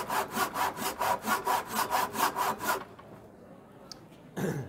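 A hand saw cuts wood at a heritage day demonstration in a fortress, with about a dozen steady, rhythmic rasping strokes close by. The sawing stops partway through, leaving quiet room noise and then a brief rustle.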